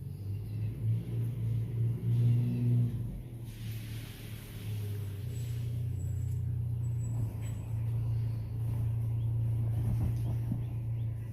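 A mail delivery truck idles and rumbles in the rain, a steady low engine drone with brief air-brake-like hiss and shifting road noise, fairly close and continuous.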